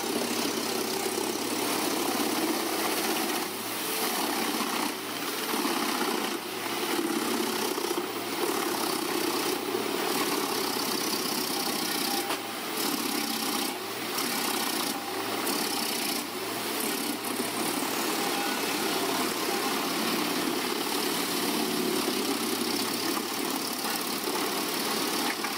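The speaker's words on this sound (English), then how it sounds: "Wooden tree trunks, once formidable in their natural state, succumb to the 8010C's prowess, emerging on the other side as neatly processed wood chips." Comptech Chipo 8010C wood chipper engine running steadily while processing tree trunks, a loud continuous droning roar with faint rhythmic variations throughout, no speech.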